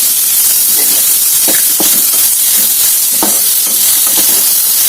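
Tomato pieces cook in a pan with a steady, loud sizzling hiss, broken by occasional soft stirring scrapes, with no voices.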